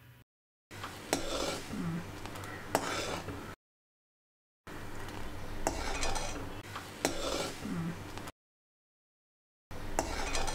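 Utensils clink and scrape in a pan as cardamom powder and finely chopped almonds are stirred into rabri, a sweet thickened milk for shahi tukda, in a few bursts separated by silent gaps.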